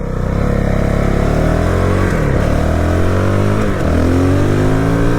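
A Honda CRF450RL dirt bike roars loud and close as it is ridden, its engine note sliding up and down through throttle changes with a brief dip before climbing again; nobody speaks.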